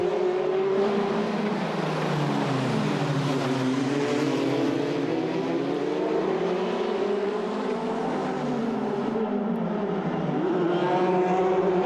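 Formula Renault Eurocup race cars at the Pau street circuit in 2017, loud high-pitched engines wailing continuously as they rise and fall through gear changes and corners, close and dominant throughout.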